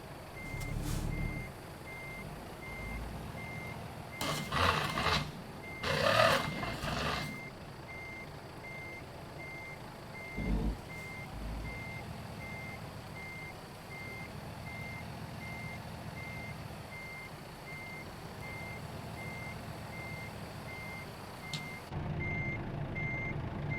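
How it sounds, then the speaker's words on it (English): A semi truck rig's diesel engine idles and rumbles as it starts up, with bursts of louder engine noise and a steady, evenly spaced reversing beep repeating throughout; no one speaks. "Fire this rig up."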